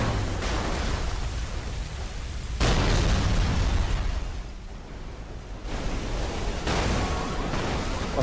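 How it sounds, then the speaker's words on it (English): Crash explosion in the PS2 racing game Burnout 3: Takedown, a loud, sustained roaring blast of noise with several sharp surges and rumbling low end, heard without speech. "Come on, hit the explosion."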